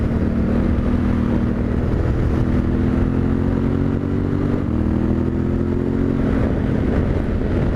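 A 2021 Yamaha Tenere 700 motorcycle cruises in fourth gear at about 50 mph along a backcountry road, its engine a steady, loud drone with faint pitch shifts and constant wind rush, no voices.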